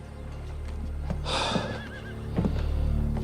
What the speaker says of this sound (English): Our horses are tied up on the street.